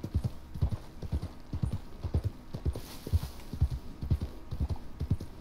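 Horse hooves clip-clop steadily in Red Dead Redemption 2, a regular walking rhythm of close, distinct hoof strikes with faint game ambience behind them.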